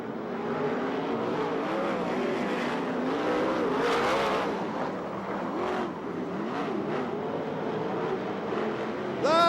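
USAC/CRA sprint cars race around a track at Ventura, California, a loud continuous multi-engine roar with rising and falling revs as the cars pass, plus faint tire squeal, and crowd or announcer sound blended underneath.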